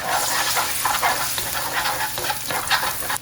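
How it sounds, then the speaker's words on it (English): Beaten egg fries quickly in a hot pan, a dense steady sizzle with crackling bursts and light stirring, close and continuous without talk. "we're going to just beat up our egg. And we're going to quickly pan fry that"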